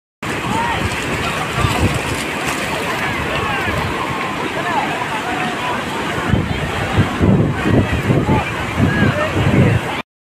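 Sea waves surge and break on Digha beach in a continuous loud roar, buffeted by wind noise against the microphone, with a person talking faintly beneath the surf.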